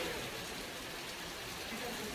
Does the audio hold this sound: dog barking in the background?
no